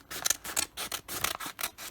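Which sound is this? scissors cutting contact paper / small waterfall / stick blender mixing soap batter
scissors cutting contact paper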